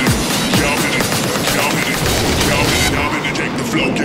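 Continuous rapid explosions from rockets fired at a Mega Knight in Clash Royale, loud and dense throughout, with crackling blasts layered over a low rumbling roar.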